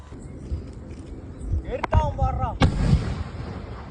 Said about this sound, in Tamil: மெயினான மேட்ரே இந்த 4 இன்ச் பைப்பு தான். வெறும் 200 ருபீஸா. என்ன ஹைட்ன்றதை நீங்களே பாருங்க.